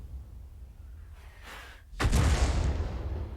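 World of Tanks Grille or Hummel self-propelled artillery firing in-game: a quiet lead-in, then one sudden heavy boom that tails off into a long rumbling decay.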